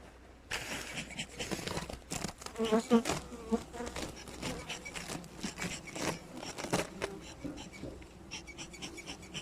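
Honeybees buzz loudly and steadily around a hive in a forest in January, with rustling and scraping mixed in throughout.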